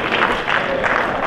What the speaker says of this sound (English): that guy got more applause than anything I've said